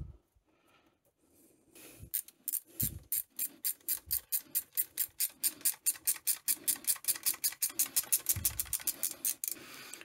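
A ratchet spins rapidly while tightening cylinder bolts on a Yamaha SR125 engine, a long steady train of close, crisp clicking strokes that grows louder and quicker toward the end.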